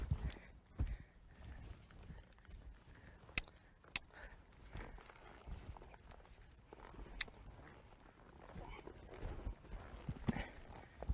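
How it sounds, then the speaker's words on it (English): A saddle-broke horse stepping and shifting its hindquarters, with a series of irregular, close hoof clops and thuds over a quiet outdoor background, some louder strikes standing out among softer shuffling steps. "I just kicked his ribs just then to get the horse to yield his hindquarters."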